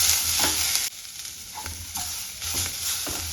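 Chopped onions frying in oil in a pan, a close steady sizzle broken by a few spatula stirs and scrapes, with no voices over it.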